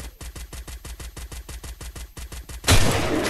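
Rapid automatic gunfire from the video game Free Fire rattles in an even burst of about two dozen close, loud shots, ending in a broad roaring blast, likely a car exploding.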